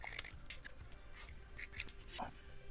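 Scissors snip and cut around material while making an airsoft suppressor, giving a series of short close crisp snips and rustles at a steady working pace with no talking.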